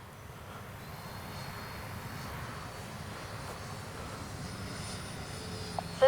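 Freewing 90mm T-45 RC jet turning to land with its gear and flaps down, a steady, fairly faint whine and rumble holding level throughout, with a brief louder burst near the end.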